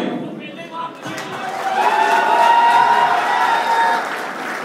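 An audience claps at a live Punjabi performance. The applause starts faint, swells into a full, sustained round, then eases slightly, with a voice heard briefly at the start.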